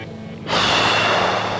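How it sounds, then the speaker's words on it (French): A single close, loud breath drawn in through the nose during a Qi Gong exercise, breathy and steady after a quiet start. "On inspire par le nez, on expire par la bouche"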